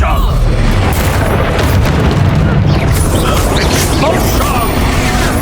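A spell explosion in Hogwarts Legacy: a loud, continuous wall of booming, crackling blasts and bursts during combat, dense and close from start to finish, with voices mixed in.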